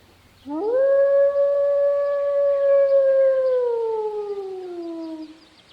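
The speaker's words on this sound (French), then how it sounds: "Puis, il s'enfuit dans la forêt, hurlant de douleur." A wolf howls in pain in a French telling of the three little pigs, one long, loud, sustained wavering howl that rises quickly, holds steady, then slowly sinks and fades out, with no talk over it.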